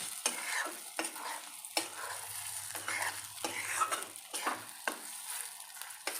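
Mini idlis being stirred with ghee and podi in a hot pan: repeated scraping, clattering strokes of a spoon against the pan over a steady frying sizzle, close and fairly loud, with no talk.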